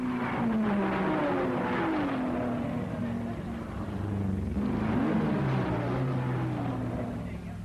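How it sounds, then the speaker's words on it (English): A 1961 Triumph TR4 (TRS) racing car engine at the Le Mans 24 Hours drones steadily with wavering pitch as it revs up and down in the pits, fairly close, with a faint voice in the background. "the engine sounds clean enough"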